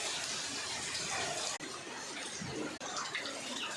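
Heavy rain pours down in Ramanathapuram, with water splashing and pooling, a dense and constant rushing hiss. Two brief dropouts break it, and no voices are heard.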